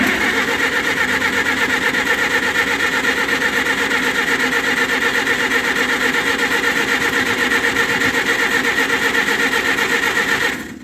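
A 1958 Oliver 550 tractor engine, running with its exhaust pipe off, cranks over continuously on a strong battery in a close, loud, rhythmic churn that never catches before cutting off at the end.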